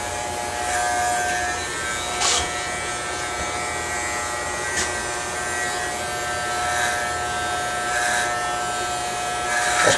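Electric hair clippers fitted with guards cut hair in a square, short haircut with a steady close-up buzz throughout, and faint soft scraping bursts appear at intervals as the blades pass through hair.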